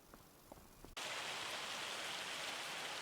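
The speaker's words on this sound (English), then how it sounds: "I'm just sitting here on the porch and watching it hail away." Hail pelting down in a logging roleplay video game, heard from a porch: a few faint taps give way abruptly to a loud, steady, dense hiss of falling ice that continues without a break.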